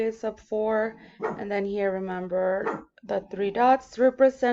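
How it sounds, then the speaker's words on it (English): A pet dog barks and yips repeatedly in a sequence of short bursts, fairly loud and close, while a person keeps talking over it. "Sorry about my dog barking."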